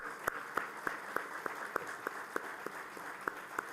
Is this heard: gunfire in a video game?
no